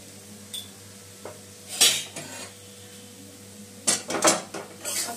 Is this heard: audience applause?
no